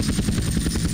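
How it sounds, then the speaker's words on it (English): A helicopter in GTA San Andreas thrums close and loud, its rotor beating in a fast, even rhythm over a low engine drone for about a second. "I hate helicopters, man"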